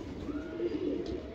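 Pigeons coo in soft low repeated calls near a rooftop loft, a steady murmur of overlapping coos at moderate volume with no speech.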